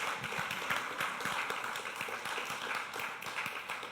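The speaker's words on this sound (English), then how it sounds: "Let's give her a round of applause" An audience applauds a departing guest speaker at a morning talk session, with steady, moderately distant clapping filling the room throughout.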